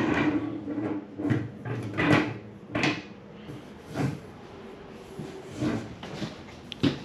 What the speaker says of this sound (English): which these drawers are soft close. And even the cabinets are soft close.